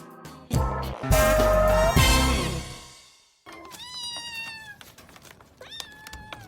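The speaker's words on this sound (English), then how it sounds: "Kittens." Kittens meowing, several short high-pitched mews in a cluster, close and fairly loud, with no talking.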